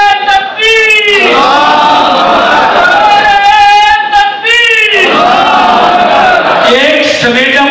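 A large outdoor political rally crowd roars a chanted slogan in unison, loud massed voices rising in several waves with a brief lull between them.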